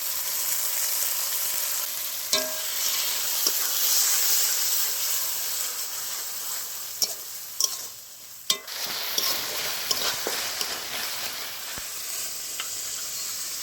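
Browned onion sizzles in oil with ground ginger, green chili, cumin and coriander paste for a kalbosh fish curry, a loud continuous frying hiss punctuated by sharp spatula clicks and scrapes against the pan.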